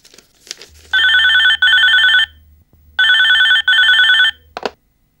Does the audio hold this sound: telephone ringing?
yes